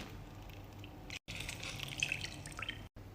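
Juice dripping and squishing as half a lemon is squeezed by hand, a steady close wet trickle with brief breaks and no talk.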